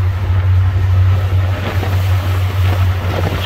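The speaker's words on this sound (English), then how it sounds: "Boy, the wind is blowing. Big waves out here." Wind and big ocean waves surround a boat at sea on a spacecraft recovery mission: loud, steady gusting and water wash over a constant low engine drone, close to the microphone, with no talking.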